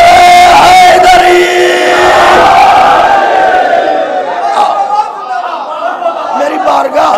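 At a Muharram majlis in Lucknow, a large gathering answers the Nara-e-Haidari slogan with a loud collective shout that swells and then trails off into scattered calls, echoing in the hall.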